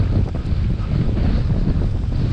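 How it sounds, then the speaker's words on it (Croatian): Wind buffets the microphone during a mountain bike enduro run on a forest trail near Zagreb, a loud, continuous low rumble and roar with no voices. "Vjetar me gura i dalje"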